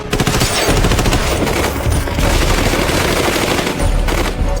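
Dense, continuous gunfire from soldiers' guns, loud and close, with a noisy blaze of shots running without a break through the whole passage.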